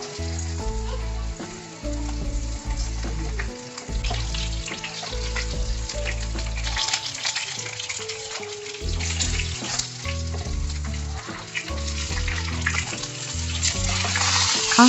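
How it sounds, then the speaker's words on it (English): Continuous sizzle and crackle of fish frying in oil over a medium flame, close and fairly loud, with bursts of popping and spattering throughout. "Make sure to maintain medium flame during the whole frying process."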